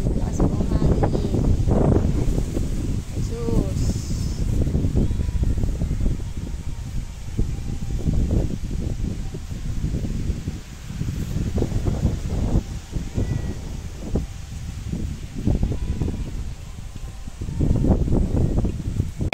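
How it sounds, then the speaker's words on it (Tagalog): Steady, roaring gusts of strong typhoon wind on a string bean farm buffet the microphone throughout, with low rumbling surges and rustling under occasional faint voices. "Uy, yung lakas ng hangin."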